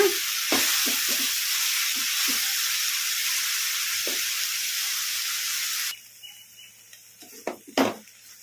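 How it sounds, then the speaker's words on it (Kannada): Pundi (sorrel) leaves frying in a pan on a medium flame for chutney, a loud continuous sizzle with occasional stirring clinks and scrapes, then quieter utensil knocks after the hiss drops away. "ಇದನ್ನು ಮೀಡಿಯಮ್ ಫ್ಲೇಮಲ್ಲೇ ಫ್ರೈ ಮಾಡ್ಕೊಂಬಿಡೋಣ ಮೆತ್ತಗೆ"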